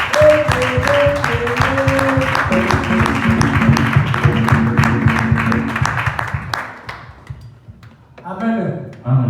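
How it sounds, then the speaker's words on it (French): Applause from a congregation at a New Year's Eve church service, steady clapping for several seconds over an organ-like tone that fades out, followed by a voice. "Acclamez pour nous."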